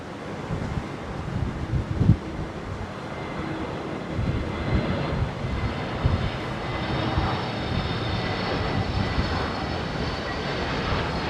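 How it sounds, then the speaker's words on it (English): Airplanes passing near Heathrow Airport make a continuous, broad engine roar mixed with gusty wind buffeting the microphone, loud and steady for the whole stretch with no voices. "If you want me to turn round and not film the planes, I can do that and you won't get any noise."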